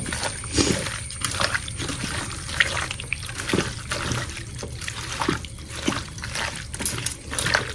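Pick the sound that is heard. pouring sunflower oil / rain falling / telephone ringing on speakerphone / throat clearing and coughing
pouring sunflower oil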